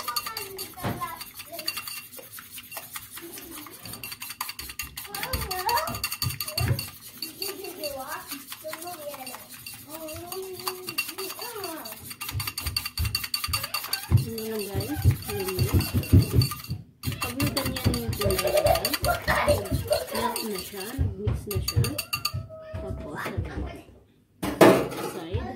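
Eggs for breading shrimp are whisked briskly in a bowl, fast rhythmic clinking of utensil against dish running throughout, close and loud, while a person talks over it.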